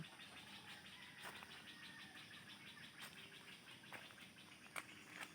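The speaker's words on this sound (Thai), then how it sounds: "มาฟังเสียงนกด้วยกัน" Birds chirp and sing in the morning outside a quiet house, with repeated faint tweets, a few sharper calls and a steady insect-like hiss behind them.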